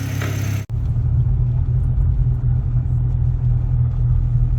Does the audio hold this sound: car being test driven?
yes